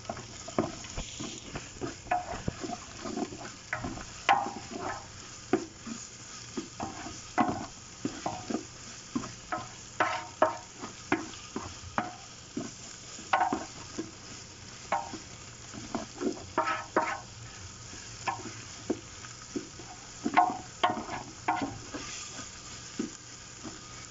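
Chicken biryani sautéing in a pan while being stirred, a steady sizzle broken by frequent scraping, clattering stirs at an uneven rhythm, close and without speech.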